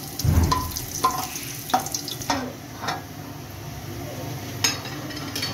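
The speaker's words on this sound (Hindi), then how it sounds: "ये जो ज़ीरा हमने सफ़ेद ज़ीरा लिया था ये हम इसमें डाल देंगे ताकि इसकी खुशबू थोड़ी सी आ जाए" White cumin seeds crackle and sizzle in hot oil, a close frying hiss with several spoon scrapes and stirring knocks across the pan, louder at the start and easing into a steady sizzle.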